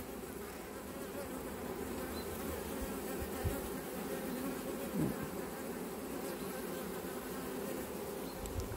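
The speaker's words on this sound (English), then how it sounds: "God, I love bees." Honey bees from a swarm buzzing densely around a hive fitted with frames of drawn comb, a continuous close, even drone that keeps going throughout with no speech.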